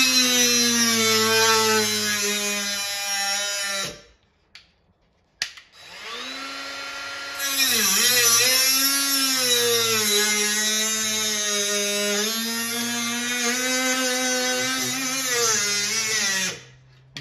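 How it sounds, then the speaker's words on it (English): A small cordless cutoff tool with a worn blade cutting during an arcade cabinet restoration, a loud high whine running steadily, stopping briefly, then spinning back up and cutting again at a shifting pitch. "Let me cut this right here first. Got my little cordless cutoff tool."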